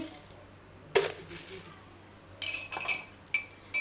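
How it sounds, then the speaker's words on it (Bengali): Two spoons clink against each other and a cup in a home kitchen while tea is made, with a sharp clink, then a quieter pause and a cluster of bright metallic taps near the end. "দেখো মাথা কেমন খারাপ, 2টা চামচ দিয়ে কাজ করতেছে।"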